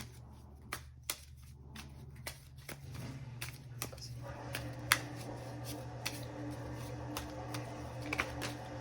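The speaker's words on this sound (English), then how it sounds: "These cards are super thin, so they're a little bit tricky to shuffle." Thin tarot cards being shuffled by hand up close, a series of crisp flicks and riffles with soft clicks over a low background hum.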